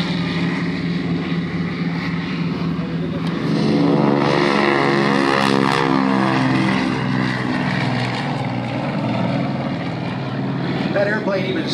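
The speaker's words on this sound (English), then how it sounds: "That airplane even sounds heavy, doesn't it?" A heavy Beech C-45 propeller airplane roars steadily at an airshow, its engine drone swelling louder as it takes off, with faint voices underneath.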